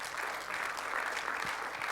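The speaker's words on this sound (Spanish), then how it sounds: "puede darle una ofrenda de aplausos al Señor" Church congregation applauding at the close of a service, a steady, dense wash of clapping throughout with no voices over it.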